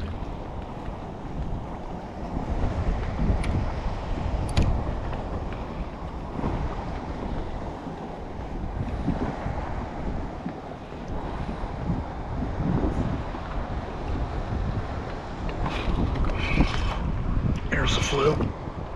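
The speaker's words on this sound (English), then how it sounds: "unless the wind kind of lays down a bit" Wind gusts roar across open water around a fishing kayak on western Long Island Sound, a constant rough rumble with faint splashes and a few light clicks, with a voice at times.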